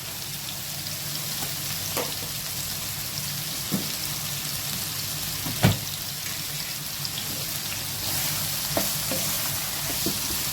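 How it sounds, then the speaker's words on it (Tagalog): Squash simmering in coconut milk (kalabasa na ginataan) is stirred in a pan, a steady sizzling bubble broken by a few sharp scrapes and clinks of the utensil against the pan. "Haluin."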